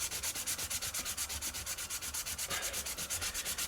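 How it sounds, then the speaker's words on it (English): High-grit sandpaper rubbed over the soft sidewall of a tire, producing fast, even back-and-forth scraping strokes at a close, steady rhythm throughout. "a matter of using pretty high grit sandpaper and just going through the motions"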